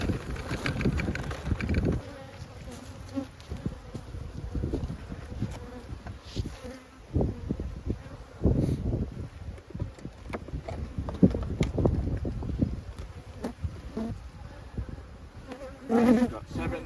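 Honey bees swarm around an open hive with frames exposed, a continuous close buzzing that swells and fades as individual bees pass near, punctuated by soft knocks and handling sounds.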